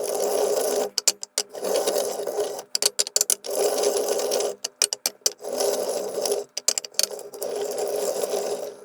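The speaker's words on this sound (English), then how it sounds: "You put these on here, I can spin these up, mix them around" A small spinning wheel rotates glasses of whiskey on a tabletop, producing bursts of mechanical whirring and rattling that start and stop several times, close by with short pauses between spins.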